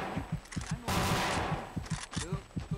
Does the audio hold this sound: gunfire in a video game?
yes